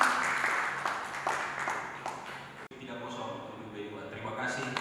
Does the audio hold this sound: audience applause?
yes